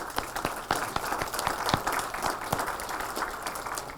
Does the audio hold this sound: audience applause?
yes